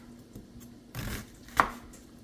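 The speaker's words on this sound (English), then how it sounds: "Slice the onion in half and just slice through the half" A knife cuts through an onion on a cutting board, a couple of soft close chops with one sharper knock against the board, quiet and brief.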